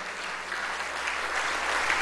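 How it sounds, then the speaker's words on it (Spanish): Steady applause from a large crowd, dense and sustained, swelling slightly toward the end. "esos pilotos venezolanos merecen un fuerte aplauso"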